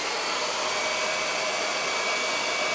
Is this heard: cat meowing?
no